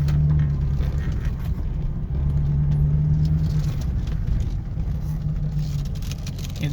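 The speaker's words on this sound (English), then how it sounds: "The engine runs good." Car engine running while driving, a steady low rumble with a constant hum and faint rattles throughout, fairly loud and close, with no talking over it.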